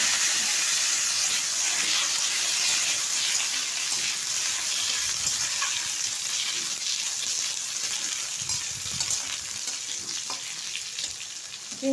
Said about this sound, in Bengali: এখন ঢেলে দিচ্ছি কড়াই।